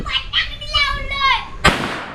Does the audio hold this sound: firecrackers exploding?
yes